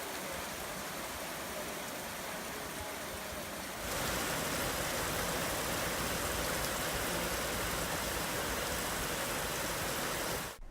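Rain falls in a steady hiss that suddenly swells heavier partway through, a dense, close wash of noise with no talk, during a rainy spell in Sweden.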